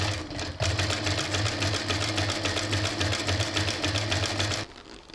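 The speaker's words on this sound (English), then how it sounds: "I'm going to sew this and this edge." Sewing machine stitching leather for a bag made from an old racing suit, running in a fast, steady, close-up whirr for several seconds before stopping.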